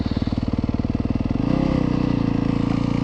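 A 2024 Yamaha YZ250FX four-stroke dirt bike engine runs up close, a loud steady pulsing idle that rises into a smoother, fuller rev partway through.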